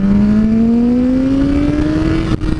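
Motorcycle engine accelerating in second gear, a loud, steady rising drone that climbs smoothly in pitch before a brief dip near the end.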